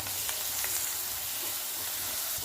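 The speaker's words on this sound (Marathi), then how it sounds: "मग आता हे थोडंसं कांद्यासोबत भाजून घेऊया" Onion and chili spice paste frying together in a pan, a soft steady sizzle and hiss heard close, with no other sounds over it.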